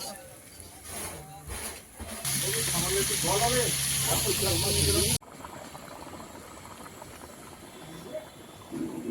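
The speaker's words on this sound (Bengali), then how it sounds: "কচু দিয়ে মাছ রান্না হচ্ছে আজকে ঝোল ফুটছে" A pot of fish curry with taro bubbles and hisses on a village cooking fire, a loud seething boil that swells and then drops, heard under someone speaking.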